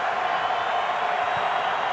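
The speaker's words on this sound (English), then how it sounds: "It is definitely a loud crowd for the Chicago Bears." A loud, steady roar from a large crowd of Chicago Bears fans, mixed with Indianapolis Colts supporters, fills the stadium at Super Bowl XLI, a dense continuous wash of voices without distinct peaks.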